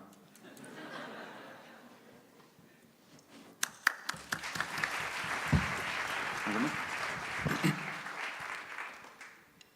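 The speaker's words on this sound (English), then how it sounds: "Huge applause for them." An audience at a conference opening ceremony applauds the backing vocalists, with scattered clapping that swells and thickens, mixed with laughter and voices.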